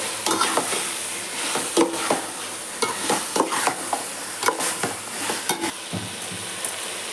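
Chicken pieces sizzle in a large pot with chili powder and coriander leaves for a simple biryani, while a spoon scrapes and stirs in repeated irregular strokes over a steady close frying hiss, with no talking.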